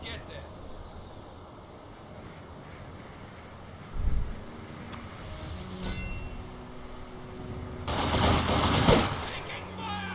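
Gunfire in Company of Heroes 2, a World War II strategy game, with a loud burst near four seconds and a dense rattling volley toward the end, over steady battle noise and a speaking voice.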